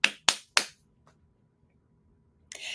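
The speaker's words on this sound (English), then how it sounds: "Do your clappy claps" Three sharp, close hand claps in quick succession, crisp and loud, each with a short decay, followed by near silence, a faint tap, and then a brief burst of noise at the end.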